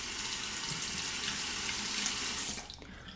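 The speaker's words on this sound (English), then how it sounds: "Rinse." A tap running into a sink as a razor is rinsed during a shave with a Parker Director Japanese-style shavette, a steady close splashing flow that cuts off near the end, no voices.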